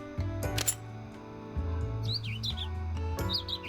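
Birds chirping in the video game When the Past Was Around, quick high tweets in two short bursts over a soft game music bed with occasional clicks.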